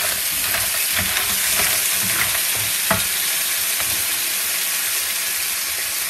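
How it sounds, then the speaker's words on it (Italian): Mussels sizzling loudly in a pan over a high flame with chili, a dense continuous frying hiss broken by soft scraping as they are stirred, close and with no voices. "caliamo le cozze e diamo una girata"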